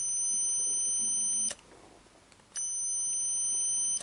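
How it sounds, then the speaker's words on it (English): Battery-check beep from an Olympus OM10 film camera: a steady high electronic tone sounds for about a second and a half, stops briefly, then returns and holds, with nothing else around it. "If you moved the little control wheel forward to the check button, this gave an audible and visual check of the battery condition."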